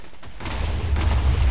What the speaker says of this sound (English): Let's get closer to hear the explosions.